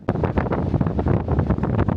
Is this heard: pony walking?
no